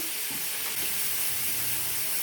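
Ginger garlic paste sizzling in a pan with tomatoes, a loud, steady frying hiss with faint stirring scrapes, no voices.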